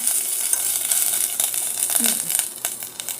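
Succulent plant frying in a pan, giving a steady close crackling sizzle with light stirring scrapes throughout, under a quiet background voice.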